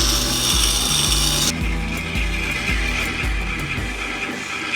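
A knife is sharpened on a wet stone grinder, giving a steady motor whir under rhythmic, repeated rubbing strokes of the blade against the stone, close and continuous.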